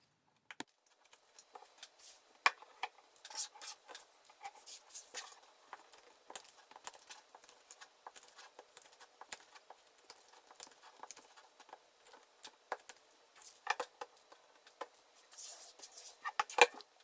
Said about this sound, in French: je n'ai aucune difficulté à couper ni la paille ni la corde